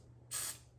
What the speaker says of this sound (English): Spraying my keys,